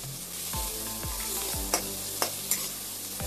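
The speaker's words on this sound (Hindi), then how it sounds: "आप इसको थोड़ी देर तक सौते करना कि ये थोड़ा सा नरम हो जाए" Onions sautéing with salt in a pan give a close, gentle sizzle. A few low knocks and three sharp clinks of a spoon against the pan are spaced through it, with no voices.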